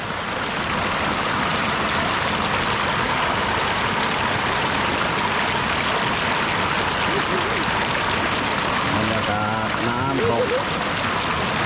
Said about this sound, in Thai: น้ำตกสีขีด น้ำตกไม่ถึงครึ่งกิโล ที่นครศรีธรรมราชครับผม